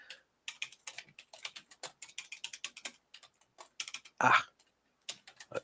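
Typing on an unfamiliar computer keyboard, close up: irregular bursts of quick key clicks with short pauses, and one louder thump or clack near the end.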